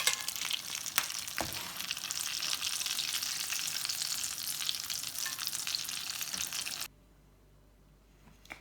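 Potato and minced beef kebab cutlets (aloo keema tikkis) fry in oil with a steady, loud, dense sizzle for about seven seconds, then the sound cuts off abruptly to near silence.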